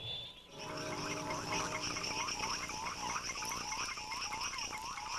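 Mud puddle frogs calling for mates: a dense chorus of repeated, rapid chirping and whining calls over a steady high insect-like drone, loud and continuous with no talk.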